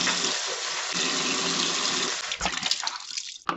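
A soap pad is rinsed under a running sink tap, giving a steady rushing stream of water that breaks into splashes and drips as the flow is interrupted near the end.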